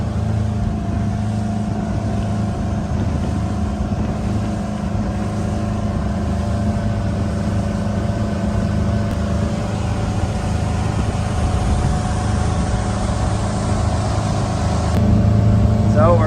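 A 1988 StingRay Supersport motorboat runs rough with a suspected dirty carburetor, its engine droning loud and steady over water with wind buffeting the microphone, and a voice talking over it.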